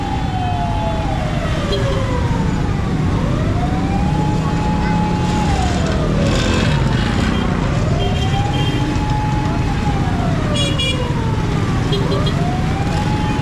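Two ambulances stuck in heavy two-way street traffic on a rainy lane sound wailing sirens, rising and falling repeatedly and loud, over a constant roar of traffic and engines.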